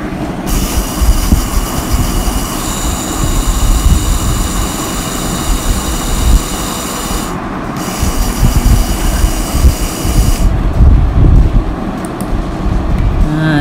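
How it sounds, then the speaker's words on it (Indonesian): A blender grinds rice finely into flour for tteokbokki, a loud, constant whirring roar with harsh high buzz that briefly dips and resumes, continuing throughout with no talking. "kisar halus."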